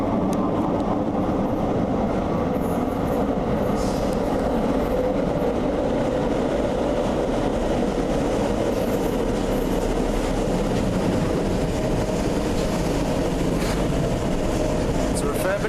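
Loud, continuous rumble of a Glasgow metro train in motion, with rattling wheels and occasional squeals, voices murmuring faintly underneath.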